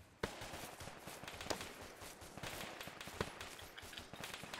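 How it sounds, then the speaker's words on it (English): Gunfire during a military field exercise, Operation Poncho, with sniper shots cracking in sharp, isolated reports at irregular intervals over continuous outdoor rumble and wind. "We're taking sniper fire, aren't we?"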